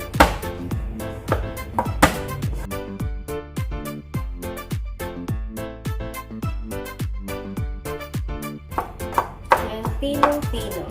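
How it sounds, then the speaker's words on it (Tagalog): Garlic being finely chopped with a knife on a board for homemade daing na bangus, a fast, steady run of sharp close knife taps that keeps going throughout, with no talking. "Kailangan po pinong-pino ang ating pagkaka-slice sa ating bawang para mas lalong manuot po ang lasa ng bawang sa ating isda."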